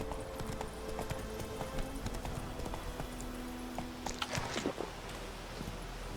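Hooves of Roach, a horse in The Witcher 3, clip-clop in a steady galloping rhythm at moderate loudness, with a brief burst of other game noises toward the end.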